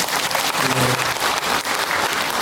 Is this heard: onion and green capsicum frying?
no